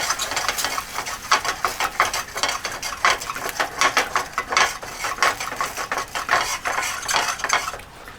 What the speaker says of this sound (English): I'm going to shake it until the butter melts